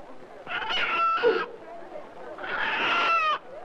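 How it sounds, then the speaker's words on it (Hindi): Two bursts of squawky, agitated clucking from a chicken, close by, each lasting about a second with a short gap between. "ये मुर्गी की आवाज कहाँ से आ रही?"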